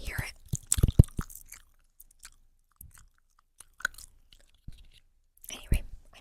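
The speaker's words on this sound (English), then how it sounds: "I'm chewing some gum" Gum chewed close to the microphone in an ASMR whisper setting, giving soft wet smacks and clicks in irregular bursts, with quiet gaps and faint whispering.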